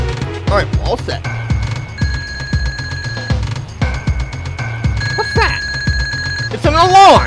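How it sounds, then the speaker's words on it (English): The Countdown boss in the Super Mario RPG video game sets off a bright, sustained ringing alarm tone in repeated bursts, mixed with game music and thumping effects, while a voice talks over it. "It's an alarm!"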